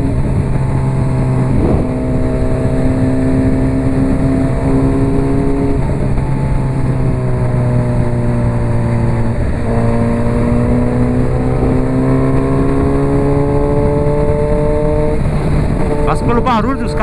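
A Honda CB 1000R motorcycle's exhaust roars steadily on a highway, its pitch rising through each gear and dipping at several shifts, loud and close throughout.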